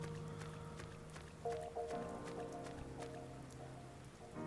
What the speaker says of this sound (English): Hey, Tateishi, it's raining.